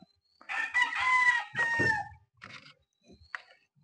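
A Golden Boy sweater broadcock gamefowl rooster gives one loud, close crow, followed by a few shorter clucking calls in an otherwise quiet setting.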